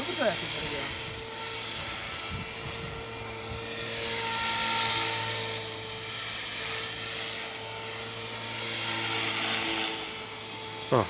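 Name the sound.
model helicopter flying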